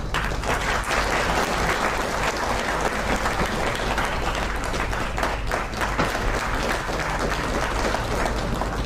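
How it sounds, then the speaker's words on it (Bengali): Audience applause at a government award ceremony in a hall, a dense, sustained wash of clapping from many hands, steady and loud, with no voices rising above it. "সবাই মিলে প্লিজ আরো একবার জোরদার করতালি হোক"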